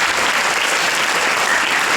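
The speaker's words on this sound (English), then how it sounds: "Let's give a round of applause to our second judge" Steady, dense audience applause at a girls' inter-school Shakespeare awards ceremony, welcoming the second judge, continuous and even throughout.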